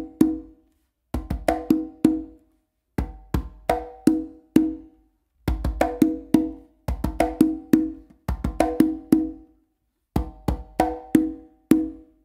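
Conga played with the dominant hand in a speed bass tumbao exercise, with crisp slaps and deep open bass tones in quick repeating phrases separated by short pauses, close and solo.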